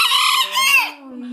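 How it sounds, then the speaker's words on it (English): A small young rooster gives one close, loud crow, a harsh rising call that trails off into a lower drawn-out note. "You got a tiny little rooster."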